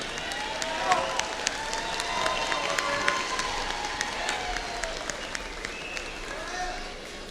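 A large commencement crowd at a spring graduation ceremony applauds for supporters, dense clapping sustained at an even level from a distance, with scattered cheers in the wash.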